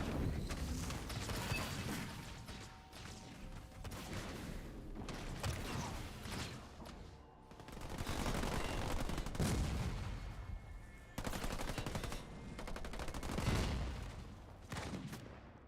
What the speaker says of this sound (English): So a lot of snipers here from both cutters.